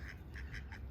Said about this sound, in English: And some ducks too.